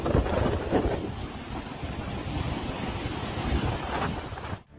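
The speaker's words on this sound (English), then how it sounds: "You can witness the thunder, the sea, and the ever-moving oil rig in this clip." Heavy ocean surf and wind roar around an oil rig caught in monster waves during a storm, a loud, continuous wash of crashing water with low rumbling swells and no voices.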